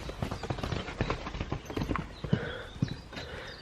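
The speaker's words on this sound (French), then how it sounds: "Le cheval qui partait au galop." Rapid hoofbeats of a galloping horse, a steady drumming rhythm close by, with a brief whinny-like sound near the end.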